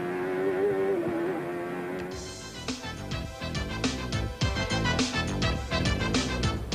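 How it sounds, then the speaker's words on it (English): Indy car engine on a Toronto street circuit during a 1992 CART road race, a loud buzzing drone that drops away, then rises again in quick bursts with repeated sharp breaks in pitch as the gears shift up and down. "a driver engages the gearbox to shift the engine on his Indy car"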